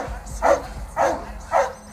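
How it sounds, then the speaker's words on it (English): Three booming barks from large guard dogs, Boerboel or Anatolian Shepherd type, evenly spaced and close, over low background rumble. "These dogs, with their sharp alertness and booming barks, can create enough noise to repel hungry hyenas prowling nearby"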